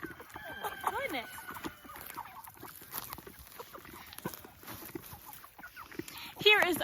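Cornish Cross meat chickens in a backyard flock cluck and chatter steadily, with a louder burst of calls near the end, while a person talks over them.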